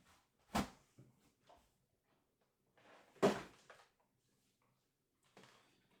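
A drawer holding physical video game discs is opened and closed, giving two sharp wooden knocks with softer sliding rattles between them and a fainter scrape at the end, close and isolated.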